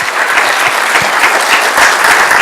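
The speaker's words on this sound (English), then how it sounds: "I'd like to again thank our panelists here, our 4 panelists here, with a round of applause" Loud, dense applause from a seated audience thanking four panelists at a disaster preparedness event, continuous for a couple of seconds with crisp individual claps close by.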